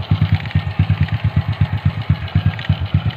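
A motorcycle engine idles with a fresh aftermarket spark plug, a close, steady chugging pulse of rapid regular thumps that keeps running without stalling.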